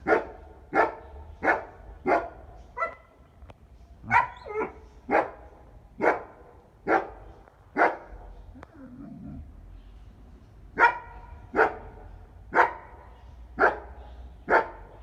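A dog barks repeatedly at home during aggression training, sharp evenly spaced barks about every second, a brief pause midway, then the barking resumes, moderately close over a faint background hum.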